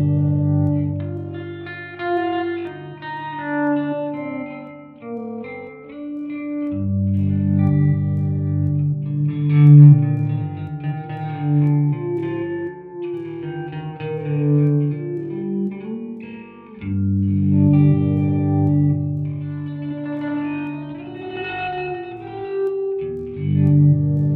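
G minor synth sequence run through an Arturia delay plugin, giving a warm, tape-like smear; steady repeating melodic pattern with echoing tails and a full low end, playing continuously at moderate loudness with no voices.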